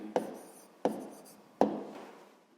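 A pen or pencil makes three short scratching strokes on paper while writing down a number, each a brief close stroke fading quickly into quiet.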